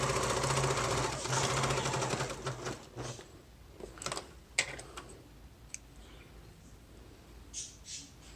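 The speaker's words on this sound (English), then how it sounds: "Now I'm also going to baste this edge down so that this part of the pleat is not hanging free" A sewing machine bastes down the pleated edge of a pillow sham, a steady mechanical run at first that breaks into short stitching bursts and scattered clicks, close by, with no talking.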